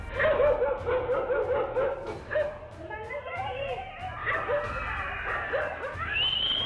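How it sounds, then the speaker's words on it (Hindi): A pack of stray dogs barks and yips in a street in Bathinda, Punjab, while rushing at a child, with overlapping excited barks and whimpers under a steady voice speaking throughout. "एक बार फिर से खौफनाक वीडियो सामने आया जिसमें कुत्तों का झुंड मासूम पर हमला करने के लिए दौड़ पड़ा"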